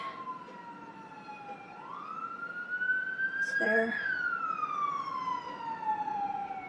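A police siren wails as it passes, rising and falling in pitch over several seconds, with a brief spoken question partway through.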